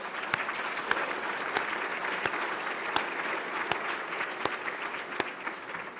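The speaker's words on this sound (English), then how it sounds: "I do think we deserve a round of applause" Members at an annual meeting applauding in a large hall, a sustained dense wash of clapping with a few sharp nearby claps standing out at a regular pace, steady and fairly loud, no talk over it.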